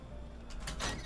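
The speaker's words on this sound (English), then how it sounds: "A door." A door opens in the Fallout 4 video game, a quiet sliding scrape with a couple of soft mechanical clunks near the end, heard alone without speech.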